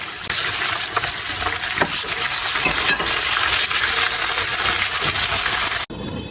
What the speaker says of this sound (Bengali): এখন এইভাবে আস্তে আস্তে আমি স্লো কুক করে ভেজে নেব।